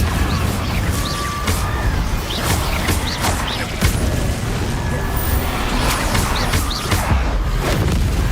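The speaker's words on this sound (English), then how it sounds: "Confringo." Confringo spell explosions in a Harry Potter video game, a dense, loud barrage of booms and crashes that repeat without pause over a constant roaring background.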